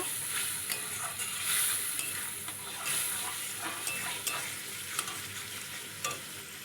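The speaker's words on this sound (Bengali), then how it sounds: "যে মশলা গোলা জলটা এবার দিয়ে দিলাম দিয়ে এবার ভালো করে একটু কষিয়ে নেব" Spice paste for goat liver curry sizzles steadily in a hot pan while a spoon stirs and scrapes it in irregular strokes, close and moderately loud.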